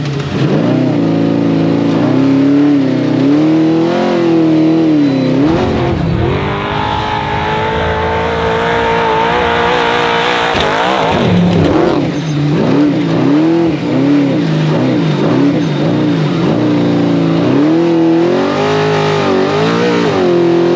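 A race truck pulls away and drives off with a loud, revving engine, harmonics rising and falling through gear changes, close and sustained with no talk over it.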